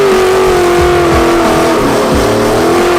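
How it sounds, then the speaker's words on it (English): A Chevrolet Camaro doing donuts revs hard and continuously, its loud, close engine note rising and dipping with the throttle over a few seconds. "we got more donuts going on with the Camaro"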